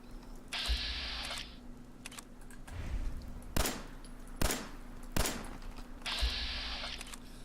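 Sharp gunshots fire in the video game Fallout 4 while aiming for a headshot, three distinct loud cracks spaced about a second apart, framed by whirring mechanical game sounds before and after.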